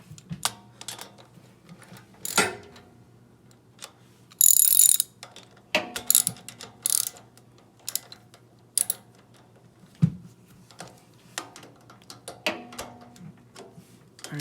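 Nuts being tightened on a snow blower assembly with a ratchet wrench: quick bursts of metallic clicking and ratcheting, interrupted by tool clanks and handling noises, close up with no talk.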